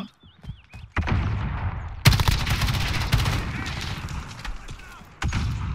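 Close, loud automatic gunfire in Call of Duty: Modern Warfare's 2v2 alpha, with rapid rattling bursts and a heavy crack midway, a lull, then another burst; a voice talks faintly at times.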